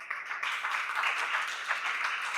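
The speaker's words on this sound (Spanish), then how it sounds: "denles aplauso al Señor." A church congregation applauds during a service about forgiveness, a steady wash of many hands clapping at moderate loudness for a couple of seconds with no speech over it.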